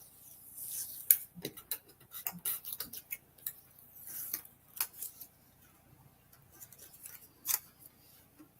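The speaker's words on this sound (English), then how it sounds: "I'll just trim the side there." Scissors snip through a paper cutout for a Country Woods card or decoration, a run of quick, fairly faint close clicks and crisp cuts with short pauses between them.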